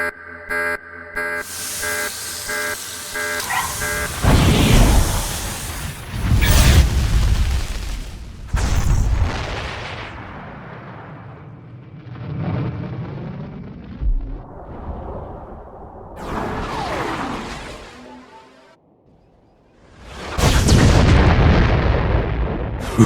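A large weapon launches at a target at the Balmoran Arms Factory in Gorinth Brig, triggering a sequence of heavy booming explosions with rumbling tails. A near-silent gap falls late in the sequence, then a final loud blast follows.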